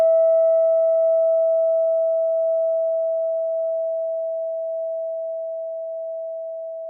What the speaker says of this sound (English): bring your full attention to the sound of the bell until you can no longer hear it